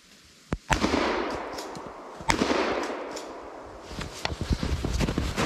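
A gunshot cracks out loud and close during a rabbit hunt in Wisconsin, followed by a second sharp report and scattered rustling, snaps and footsteps in the brush.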